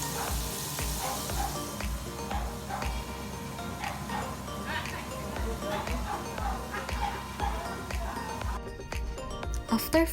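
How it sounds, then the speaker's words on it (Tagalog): Chicken frying in hot oil for buffalo chicken, with a steady broadband sizzle throughout, close and moderately loud, alongside faint ticking and clinking. "then fry the chicken"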